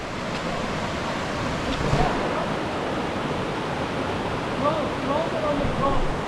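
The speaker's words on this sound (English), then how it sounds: "you can probably hear the water" Steady broadband rush of a flowing river, continuous and fairly close, with faint higher tones drifting in near the end.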